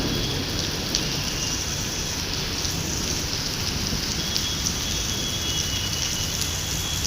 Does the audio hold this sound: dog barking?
no